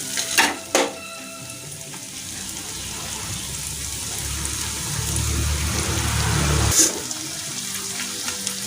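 Bombay duck (lote) fish added to a pan of softened onions and tomatoes, giving a steady close sizzle and bubbling frying hiss that swells over several seconds, with a couple of brief clatters near the start and end.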